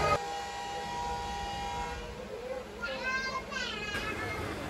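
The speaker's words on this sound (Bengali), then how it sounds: "দেখতে পাচ্ছ ট্রেনটা ছেড়ে দিয়েছে এই যে দেখো তো শিলচা থেকে ট্রেনটা ছেড়ে দিয়েছে" A train pulls out of Silchar station with a continuous rumble and rising tonal calls over the station noise, and voices can be heard around it.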